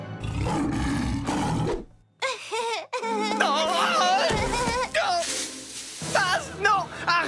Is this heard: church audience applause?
no